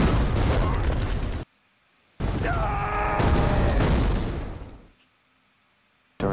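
Artillery barrage explosions in a World War II drama: two loud, sustained roaring blasts separated by a short silence, the second carrying shouted voices over the rumble before fading out.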